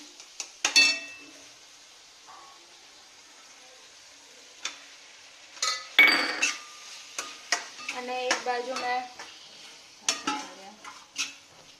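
Green turmeric vegetable dish being stirred in a pan, with scattered scraping and clinking strokes and a soft sizzle, louder bursts late on, under a brief voice.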